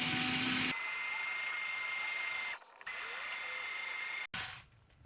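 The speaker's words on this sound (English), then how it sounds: "So it is drilling it." High steady whine of an electric drill boring out a broken crank pin on a Hornby R066 model locomotive drive wheel, running in long bursts with brief pauses and a sharp cutoff near the end.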